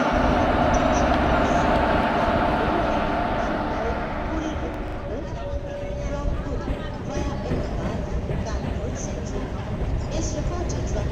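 An Indian train rolls along in a rail video game, a continuous rumbling drone of wheels and engine that changes character midway, with a voice talking over parts of it.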